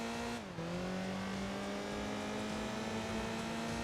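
A Mazda Miata race car in Enthusia Professional Racing revs hard, a steady high engine drone that dips briefly before climbing again, loud and continuous with no talk over it.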